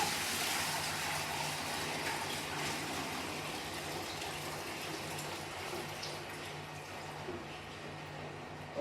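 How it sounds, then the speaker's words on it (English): Water pours steadily into a nano marine aquarium tank with a continuous gushing, splashing rush, close by and fairly loud, with a low hum underneath throughout. "So I'm going to pour this into the tank."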